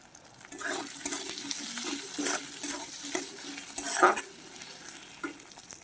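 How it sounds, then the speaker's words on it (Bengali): Spice paste sizzling and frying in a pan for a Bengali pakoda curry, with a steady close crackle broken by repeated stirring scrapes. "আমি কিছুক্ষণ মশলাটাকে কষিয়ে নেব"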